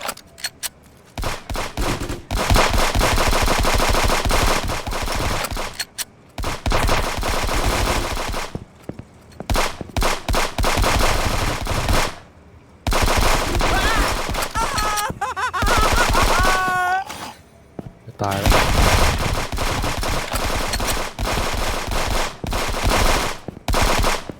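Rapid automatic gunfire and bursts of shots from a shooting video game, loud and dense, in repeated volleys with short gaps and occasional tonal game effects, while players talk faintly underneath.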